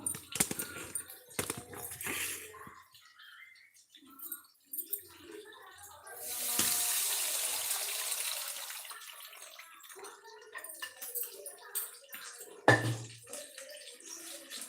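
Water splashes and pours steadily for several seconds as rice is washed in a kitchen, with clinking and brief speech before and after.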